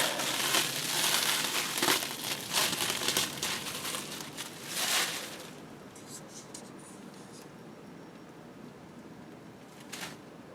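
Crinkling and rustling of wrapping being pulled off an object in close, dense bursts for about five seconds, then quieter scattered crackles.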